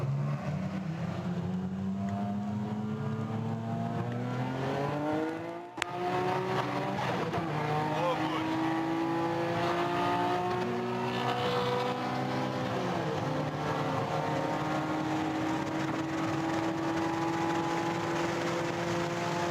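Street-racing cars on a Portuguese highway at night accelerate hard, with loud engine whines rising in pitch through repeated gear changes. A brief sharp crack occurs early on, then the roar continues, close and sustained, with no talking.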